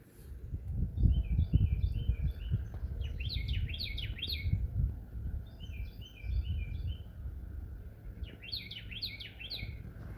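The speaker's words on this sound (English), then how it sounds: "I really think the birds are ready for spring." Spring birds chirp in repeated bright phrases, some nearer and louder than others, over a continuous low outdoor rumble with no talking.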